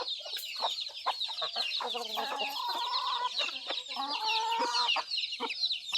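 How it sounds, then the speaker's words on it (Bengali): A fighter rooster of a village flock clucks repeatedly in short, close, fairly loud bursts, with other fowl calling around it and no talk. "এগুলো কিন্তু ফাইটার মুরগা"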